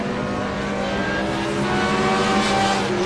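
BMW and Cadillac race cars accelerating close together on a circuit, a loud, steady engine drone with rising harmonic whine throughout, no voices.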